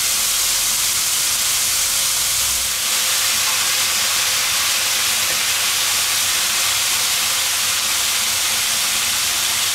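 Pak choi and mushrooms sear in a hot grill pan with a loud, steady sizzle that holds without pause and has no talk over it.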